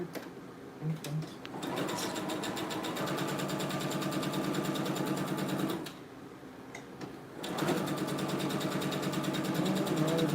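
A sewing machine runs two threads while converting a shirt into a blouse, giving close, steady, rapid stitching in two long runs separated by a brief pause.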